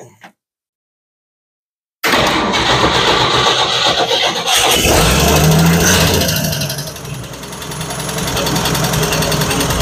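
The engine of a 1956 Chevrolet 150 sedan cranks after a second of silence and catches, then runs loud and rough with a rattling idle that dips and recovers.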